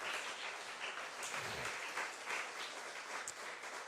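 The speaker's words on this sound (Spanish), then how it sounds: "Dale un aplauso al Señor, amado." A church congregation applauds in a steady, full wash of clapping that continues evenly from start to finish, with no speech over it.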